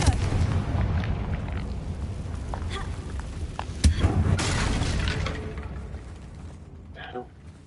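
A fiery Confringo spell blast in Hogwarts Legacy, aimed at a battered bridge, bursts out sharply once amid a steady rumbling game soundscape, with voices talking over it.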